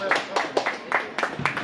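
A few sharp handclaps from soccer players at training ring out close by in uneven bursts, mixed with a voice talking over them.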